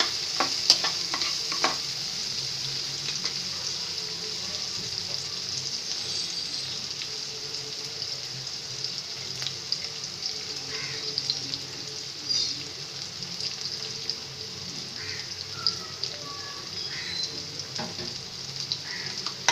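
Ginger paste, garlic paste, five-spice seeds and a little mustard fry in a pan with a steady, close sizzle, punctuated by occasional stirring scrapes and pops.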